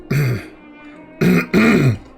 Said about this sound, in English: I can't be clearing my throat.